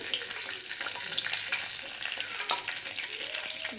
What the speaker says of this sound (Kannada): ಒಂದು ಬಾಣಲೆ ತಗೊಂಡು ಇದಕ್ಕೆ ಒಂದು ಮೂರಿಂದ ನಾಲ್ಕು ಸ್ಪೂನ್ ಆಗೋಷ್ಟು ಎಣ್ಣೆನ ಹಾಕ್ಕೊಳ್ತಾ ಇದ್ದೀನಿ ಇದಕ್ಕೆ ನಾನಿಲ್ಲಿ ಸ್ವಲ್ಪ ಜೀರಿಗೆನ ಹಾಕ್ಕೊಳ್ತಾ ಇದ್ದೀನಿ